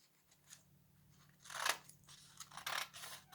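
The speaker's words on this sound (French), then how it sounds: "je peux la découper aussi avec mes ciseaux, c'est plus propre" Close, quiet snips of scissors slicing through paper, a few crisp cuts in quick succession.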